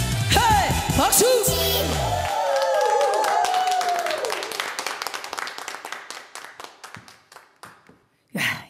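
An audience at a Korean trot singing class claps along to the song, first under loud music, then as sharp rhythmic hand claps that thin out and fade, ending in one final burst.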